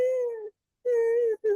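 A human voice imitates a whimpering cat or dog with three drawn-out, moaning whines: a long one, a pause, a second long one, then a short final whimper, clear and close.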